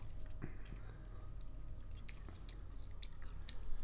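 Someone chewing soggy Halloween candy that behaves like gum, soft wet smacking and squishing close to the mouth, quiet and irregular, with a low background hum.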